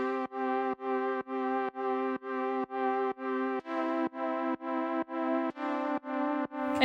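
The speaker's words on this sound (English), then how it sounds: "And then the second chords preset is from the Ghost Hack Melodic House pack," Synth Galaxy chord preset from the Ghost Hack Melodic House pack: a steady run of about fourteen short, evenly pulsed bright chords, close and loud with no voices, the pitch shifting partway through.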